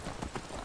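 Horse hooves clip-clopping in Skyrim, a few soft, quick thuds in a short stretch, faint and somewhat muffled beneath a low background wash.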